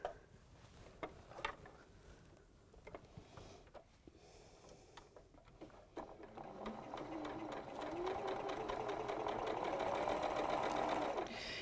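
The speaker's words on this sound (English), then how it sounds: "So we are sewing our sashing on." A sewing machine stitches quilt sashing, starting with scattered clicks and short bursts, then settling into a steady rapid whir that grows louder toward the end.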